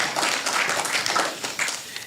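A short burst of warm hand clapping from the audience at a workshop on industrial capacity building, moderately loud and uneven.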